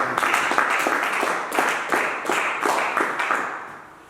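A church congregation applauding to acclaim the Lord, a steady wash of many hands clapping in rhythmic waves, fairly close and continuous, fading slightly at the end.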